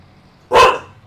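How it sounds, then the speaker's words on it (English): A dog gives one sharp, loud bark close by, a single short burst that fades quickly against a quiet indoor background. "now you gonna come in here and start barking?"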